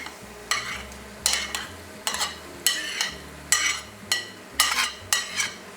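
Moo shu pork stir-fried in a pan without a wok as chopped egg is stirred back in, with about nine regular scraping strokes over a soft sizzle and a low hum underneath, close and rhythmic.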